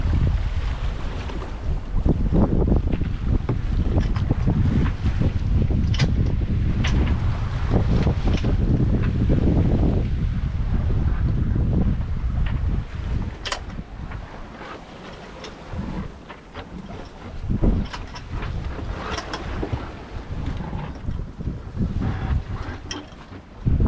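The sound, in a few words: sailboat slowly sailing in, wind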